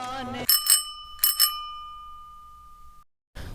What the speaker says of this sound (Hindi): दरवाजे पे लगी हुई घंटी बजाई।